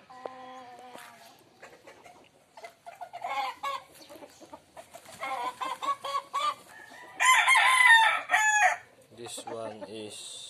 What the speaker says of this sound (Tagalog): This is a jaguar brown head stag.